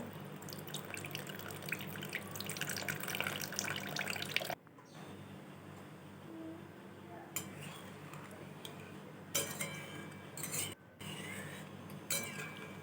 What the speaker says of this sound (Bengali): সর্ষে বাটার শুধু জলটাই আস্তে আস্তে করে ছেঁকে দিয়ে দেব